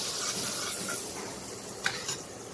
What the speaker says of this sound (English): Just put the butter in a pan,